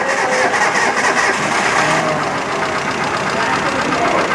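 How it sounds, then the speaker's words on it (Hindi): A Hyundai i10 car engine, noisy with some vibration, starts and runs steadily and loud nearby, with a broad continuous mechanical roar and rattle through the whole stretch, and a voice briefly talking over it. "स्टार्ट करो गाड़ी।"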